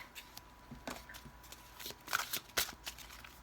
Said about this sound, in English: let me just shuffle another deck.